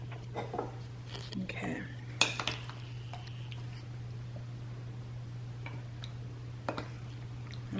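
Dishes and cutlery clink in a few sharp, scattered knocks and taps as plates of agua chile are assembled, with a brief spoken word near the start and a faint steady hum underneath.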